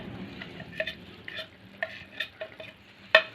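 Ground red chili and turmeric frying with keema in a pan, a soft continuous sizzle broken by several sharp scrapes and clinks of a spoon stirring against the metal, with one louder knock near the end and no talking.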